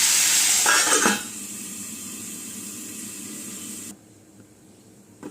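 Chopped spinach is stirred into a hot pan with brief scraping and sizzling, then the sound drops to a quieter hiss before a lid closes it down to near silence.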